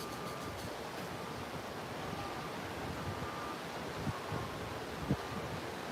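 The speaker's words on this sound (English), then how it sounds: "I don't know if y'all can hear the ocean" Ocean waves wash against the shore in a steady, dense roar, blended with wind buffeting a phone microphone, continuous and fairly loud with no voices.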